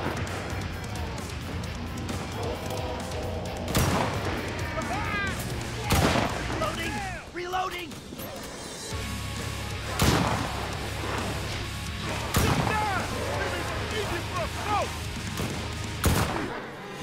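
Gunfire in the zombie-survival shooter Enlisted, with sharp gunshots cracking out roughly every two seconds over a busy bed of game music and effects; speech is also present.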